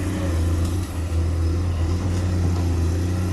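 A Komatsu PC210 excavator diesel engine runs steadily and loud, a deep continuous drone with a strong low hum and mechanical clatter, sustained throughout without speech.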